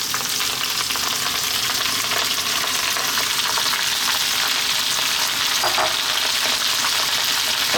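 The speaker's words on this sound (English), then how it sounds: "for about 4 minutes or so on this high heat, let's try and fry it around" Napa cabbage fries on high heat in a pan, giving a steady, loud, dense sizzle with faint stirring scrapes throughout.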